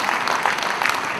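A hall full of people at a Dena Bank platinum jubilee celebration gives steady, dense applause, loud and close throughout.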